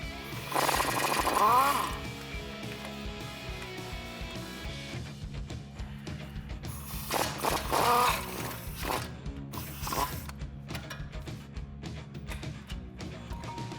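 A socket wrench with a 21mm socket ratchets out the brake caliper bracket bolts on the front spindle of a 2WD RAM 1500 pickup. Short bursts of rapid clicking repeat several times, close up, with quiet mechanical handling between them.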